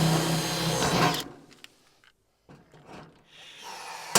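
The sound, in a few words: drilling and riveting metal roof sheets on garden room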